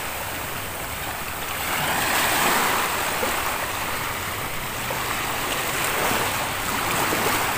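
Sea waves wash against the shore in a steady, broad hiss of surf with gentle swells in loudness, fairly close and with no voices over it.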